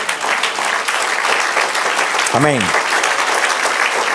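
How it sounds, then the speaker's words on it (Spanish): A church congregation applauds the Lord during a Spanish-language worship service, steady clapping filling the whole stretch while a voice speaks over it. "Den un aplauso al Señor."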